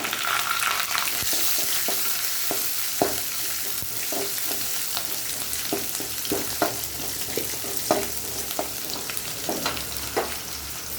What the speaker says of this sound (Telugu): కరివేపాకు వేసుకున్నాక పచ్చిమిరపకాయలు, ఎర్రగడ్డలు, తెల్లగడ్డ అవంతా వేసుకొని బాగా మిక్స్ చేసుకోవాలి.